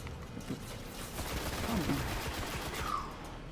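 Gunfire in the video game Destiny, rapid bursts of shots crackling at moderate level through the whole stretch, mixed with game ambience and no speech over it.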